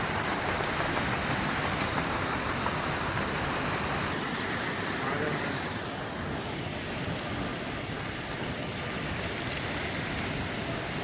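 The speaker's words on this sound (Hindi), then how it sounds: "कि हल्की हल्की बूंदाबांदी में ये पानी भी कैसे झूम रहा है।" Water splashes and churns steadily in a constant broadband wash near the Surya Center in Malaysia, with light drizzle hissing over it.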